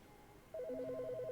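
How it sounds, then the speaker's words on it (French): A telephone in The Stanley Parable video game starts ringing partway through with a rapid warbling electronic trill, faint and steady, in otherwise quiet surroundings. "Oui, ça c'est le téléphone."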